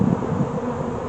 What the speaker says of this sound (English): we're seeing some activity, some bee activity